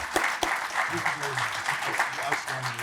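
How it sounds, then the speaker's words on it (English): Audience applause at a corporate town hall event, a steady wash of clapping running under a voice that speaks over it throughout. "just a round of applause for 2 decades of great,"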